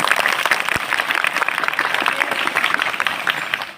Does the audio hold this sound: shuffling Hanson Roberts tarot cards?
no